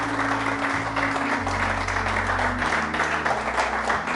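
A church congregation applauds steadily and loudly, with continuous clapping over a low, droning organ or keyboard tone.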